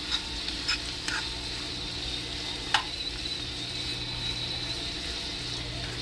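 Onions cook in a pan, giving a low, steady sizzle under a faint hum, with a few scattered clicks and scrapes as they are stirred.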